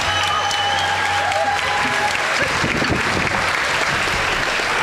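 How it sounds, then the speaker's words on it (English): Loud, steady applause and some cheering from a crowd welcoming a judge at a Tahitian fete, dense clapping that fills the whole stretch with no voice standing out above it. "please welcome and round of applause for Auntie Lucy Fonoi Moana."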